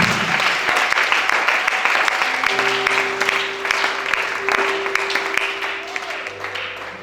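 A church congregation breaks into sustained applause during a testimony service, a full room of clapping with music tones playing underneath and some voices mixed in.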